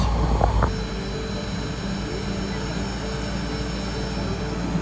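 Engines of a Zero-G parabolic flight airplane idle on the ground as a steady, loud drone with a low rumble, briefly overlapped by a louder burst of nearby noise at the start.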